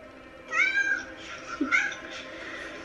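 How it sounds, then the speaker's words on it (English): A cat meows twice in a TV show, two clear, fairly close calls about a second apart, the second shorter, playing over a quiet background. "Right, the cat!"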